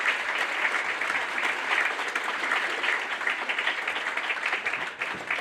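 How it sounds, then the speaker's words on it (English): Sustained applause from a crowd at a white coat ceremony fills the whole clip, dense and steady, easing slightly near the end. "please join me in a round of applause one by one"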